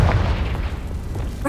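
A Confringo fire spell goes off in Hogwarts Legacy, a deep booming blast with a dense, rumbling roar that stays loud and sustained across the short moment.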